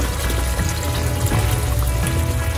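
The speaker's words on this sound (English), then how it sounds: "I'm going to add in the mushrooms to it now." Mushrooms go into a pot of boiling store-bought tikka masala gravy, giving a close, steady bubbling and wet sloshing that fills the short moment without any voices.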